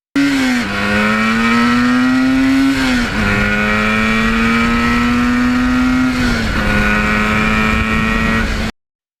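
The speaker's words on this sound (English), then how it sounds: "They like to hear the two strokes going through the gears." A 1977 Yamaha RD400 two-stroke motorcycle at wide open throttle revs high and shifts up through the gears, its loud, buzzing whine rising, dropping at each of three shifts, then cutting off abruptly.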